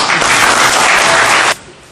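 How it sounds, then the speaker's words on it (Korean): An audience at a cultural arts event with disabled people gives a loud burst of dense, steady applause, which stops abruptly after about one and a half seconds, leaving a quieter room. "한번 박수 한번"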